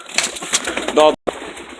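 Soft repeated pigeon coos mixed with other faint bird calls and background murmur, close by, with a brief drop to silence near the end.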